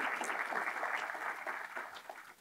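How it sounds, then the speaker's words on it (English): Conference audience applauding in a hall, a steady wash of many hands clapping at moderate level that holds for a few seconds before easing off slightly toward the end. "they deserve a round of applause for the incredible logistics that they pulled together"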